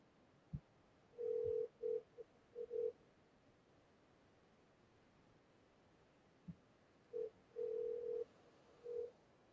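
An outgoing call rings over a speakerphone in a quiet room. There are two clusters of ringback tones, each made of several short repeated beeps, with soft clicks between them.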